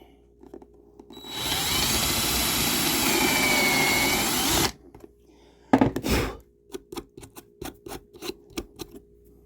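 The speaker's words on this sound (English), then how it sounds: "I drill the countersink hole at the same time as I drill the regular hole." A power drill with a countersink bit whines loudly and steadily through wood for a few seconds, stops, then a burst of sharp taps and knocks follows.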